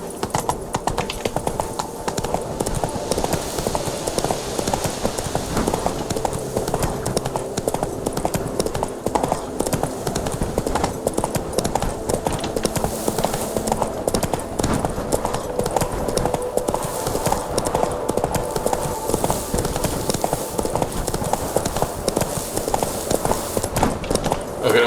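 Hooves of the horse Roach galloping in The Witcher 3, a fast, steady clip-clop rhythm that carries on without a break over the whole stretch.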